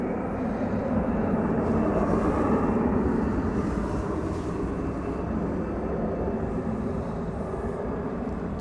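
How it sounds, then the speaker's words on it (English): Airbus A321 airliner at DFW Airport at night, a steady loud broadband jet roar that holds evenly throughout, fairly close and with no voices over it. "It's an Airbus A321."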